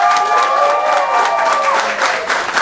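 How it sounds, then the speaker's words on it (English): Sustained crowd applause at an election nomination day event, steady clapping filling the space for the whole stretch with tonal background sound underneath and no clear voices. "give them a big round of applause"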